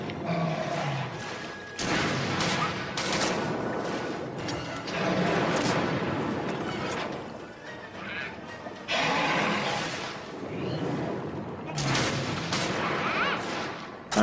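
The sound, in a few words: heavy bowgun firing cluster shots, Monster Hunter 3 Ultimate video game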